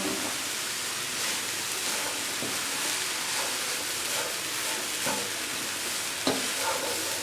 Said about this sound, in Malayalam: ചീര നന്നായിട്ട് ഇളക്കി നല്ല ചൂടോടെ ഇളക്കി